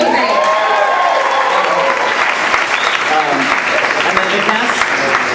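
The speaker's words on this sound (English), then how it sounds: "the audience would not stop applauding because that song is awesome" An opening-night audience applauds long and loudly after a song in the Broadway musical Henry, Sweet Henry, a dense, sustained wash of clapping while someone speaks over it.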